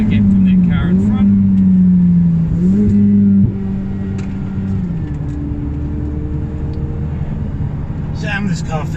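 A Ferrari 488 Challenge race car's engine drones loudly from inside the cabin on a racetrack in New Zealand, holding a sustained tone that shifts pitch through gear changes and throttle lifts.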